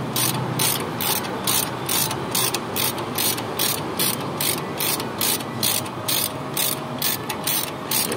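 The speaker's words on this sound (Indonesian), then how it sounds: "untuk mur dan bautnya kita lepasin dulu" Ratchet wrench loosening nuts and bolts on a Suzuki Escudo shock absorber, a loud, fast run of regular clicking strokes from close by with no pauses.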